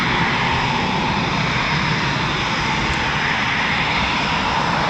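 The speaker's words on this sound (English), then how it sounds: "at runway 25, Typhoon's about to take off." A Eurofighter Typhoon FGR4 jet at runway 25 of an RAF station roars loudly and steadily as it prepares for takeoff, a broad, dense engine rush filling the whole clip with no talking.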